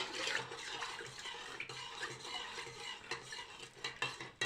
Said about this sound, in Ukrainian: Розколочуємо, щоб сіль розійшлася.